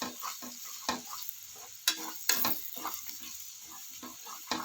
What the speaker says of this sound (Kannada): ನೋಡಿ ಖಾರದ ಪುಡಿ ಹಾಕಿ ಈ ಥರ ನಾವು ತಿರುಗಿಸ್ಬೇಕು 1-2 ನಿಮಿಷ